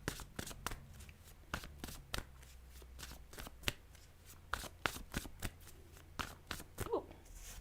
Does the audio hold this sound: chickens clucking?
no